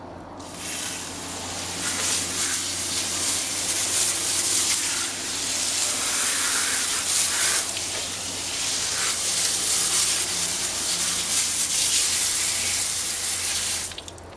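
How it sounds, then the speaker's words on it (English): A steady, close water spray hisses continuously as a car wheel is rinsed down, holding at a fairly even level with slight swells before cutting off near the end. "So first thing we're gonna do, we're gonna rinse down the wheel."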